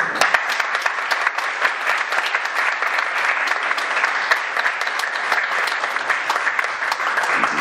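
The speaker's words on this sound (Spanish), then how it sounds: "para quien les pido por favor un aplauso" An audience gives sustained applause for Professor Armando Trasviña Taylor at a book presentation of the Baja California Sur constitution, crisp dense clapping from many people, loud and even throughout.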